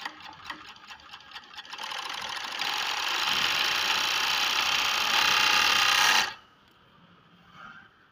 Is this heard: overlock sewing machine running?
yes